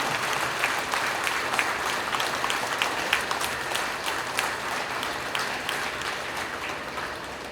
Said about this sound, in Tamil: நாம் எல்லாரும் கையை உயர்த்தி நம்முடைய பெற்றோர்களுக்கு ஒரு கைத்தட்டல் கொடுத்து